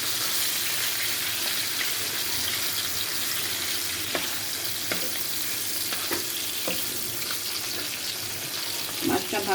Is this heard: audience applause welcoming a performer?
no